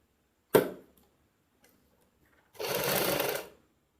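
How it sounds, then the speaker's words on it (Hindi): A sewing machine stitches Punjabi suit fabric along buckram. A sharp click comes first, then a pause, then one close, steady burst of motor whirring lasting about a second, with no voices. "बुकरम के साथ साथ सिलाई लगाते हैं"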